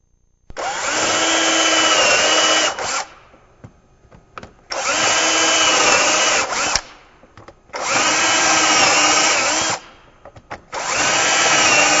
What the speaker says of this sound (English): Now I'm ready to start drilling.